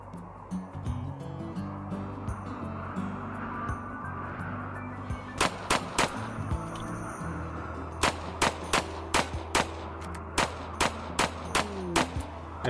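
Gunfire in the zombie-themed RimWorld colony game: a run of sharp, evenly spaced cracks over a low steady game hum, clustering into a quicker volley toward the end with no talking.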